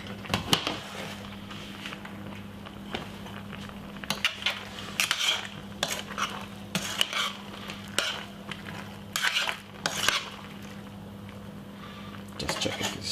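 Pasta is stirred in a cooking pot for a bolognese pasta bake, with repeated clinks and scrapes of utensil against metal over a faint steady hum, and a voice speaking in the background.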